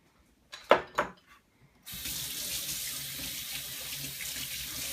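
A kitchen sink tap runs steadily for a rinse after making sofrito, preceded by a couple of sharp clatters of a container or utensil, then a constant close rush of water to the end.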